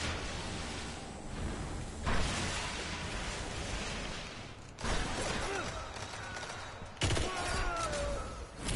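Shotgun blasts in a shooter video game, several sharp loud reports spaced a couple of seconds apart over a busy bed of game noise and gunfire.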